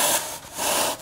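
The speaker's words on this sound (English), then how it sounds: "very easily cut, just using a normal wood saw" A normal wood saw cuts through a foam block for a composite pattern, giving a soft, rasping stroke that rises, dips briefly, and returns. It is close and steady, with no voices.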